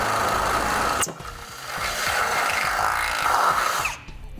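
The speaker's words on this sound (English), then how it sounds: "I'm going to come back with a 1/2 inch drill bit and drill through" A power drill with a 1/2 inch bit boring through vehicle frame metal while fitting a Curt trailer hitch receiver to a 2017 vehicle: a short spin, a brief pause, then a longer whirring drill run that stops abruptly, close by.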